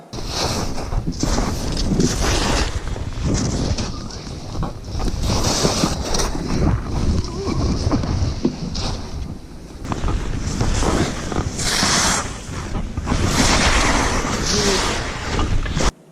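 Fifty-year-old Head 320W skis carve repeated turns on icy snow through trees, harsh scraping rasps rising and falling in rhythm, heavily mixed with gusting wind rumble on the microphone.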